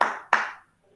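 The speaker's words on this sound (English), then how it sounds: "I clap for you" Two sharp hand claps close by in a classroom, evenly spaced and ringing briefly in the room before fading into silence.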